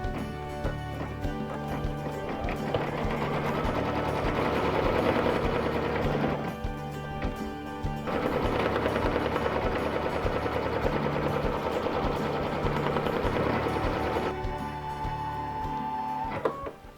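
A sewing machine stitching a zipper onto a quilted bag, a fast even mechanical whirr and needle patter running in two long bursts with a short pause between, close and steady.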